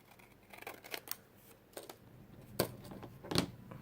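Scissors snip through a paper tag in a few quiet, close cuts, irregularly spaced, with the last two cuts sharper and louder than the rest.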